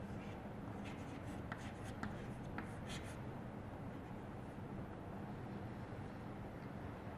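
Marker or chalk writing the word "green" on a board during a biology genetics lesson, a few faint scratchy strokes under steady background hiss.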